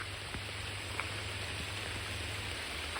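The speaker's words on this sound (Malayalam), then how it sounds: "മഴ മഴ മഴ ഗായ്സ്, മഴ." Steady rain falls on a plantation of rubber trees, a dense, even hiss that holds unchanged from start to finish with no voices.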